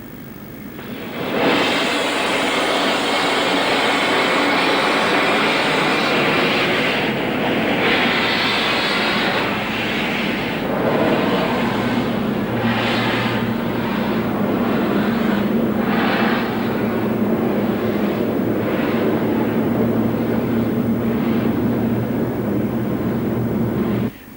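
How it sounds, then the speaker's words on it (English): LMS Class 5 steam locomotive 45428 pulls away toward the station on the North Yorkshire Moors Railway. It gives a loud, steady roar and hiss with rhythmic exhaust beats, plus a sustained low hum, all close by and continuous. "Now ready to work the first southbound service, 45428 moves off towards the station."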